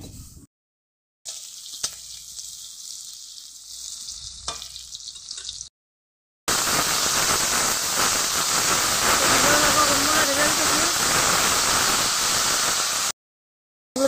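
Onions dropped into a hot wok of oil for fish curry, a loud steady sizzle and hiss that starts abruptly and holds close, after quieter kitchen noise and short silent gaps.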